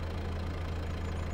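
Steady low rumble of a tractor engine idling in Farming Simulator 22, a close, even drone with a firm low throb and no voices, continuous for the whole moment.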